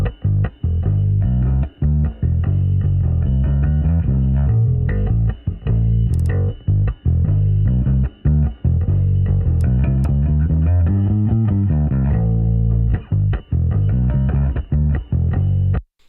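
A bass track plays through a growling compressor plugin, a loud, thick, gritty bass line with punchy repeated notes and brief gaps, heard alone and close.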